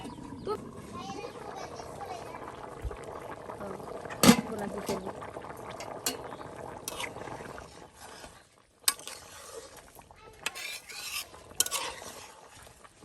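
Beef curry bubbles in a pot while a spoon stirs it, soft simmering with scraping clinks and a few sharp knocks against the pot, under steady conversation from women nearby.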